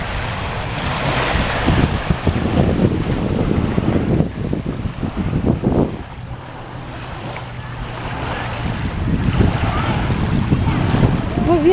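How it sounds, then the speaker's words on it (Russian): Water sloshes and washes against the shore of Kapchagay Reservoir in irregular surges from a passing motorboat's wake, mixed with steady wind rumble on the microphone. "волны какие нагнал."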